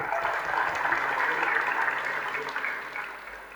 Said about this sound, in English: Let's give a round of applause to ourselves.